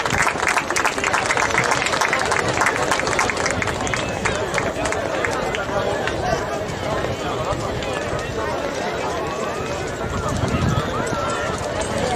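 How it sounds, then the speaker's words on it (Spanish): Crowd applause at a beach handball trophy ceremony in Moaña, dense and continuous throughout, with a loud public-address voice speaking over it. "Un forte aplauso."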